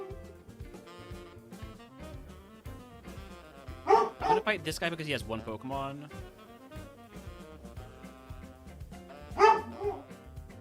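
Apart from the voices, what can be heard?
dog barking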